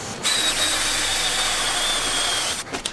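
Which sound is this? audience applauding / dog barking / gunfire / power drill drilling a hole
power drill drilling a hole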